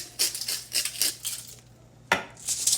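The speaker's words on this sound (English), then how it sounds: "just spreading all of the oil" A utensil scrapes and clatters against a pan or bowl in several short strokes, spreading oil over Brussels sprouts, close and moderately loud, with a brief pause in the middle.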